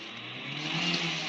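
A 2008 Toyota Avanza engine fitted with a Blackcore modification revs in a short, close, steady hum that swells slightly midway, with no voices over it.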